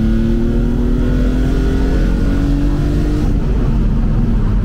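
A tuned BMW Z4 M roadster's engine, tuned in the spirit of the M3 E46 CSL, holds high revs near 6000 rpm in second gear, a steady deep roar with rising harmonic whine, close and continuous.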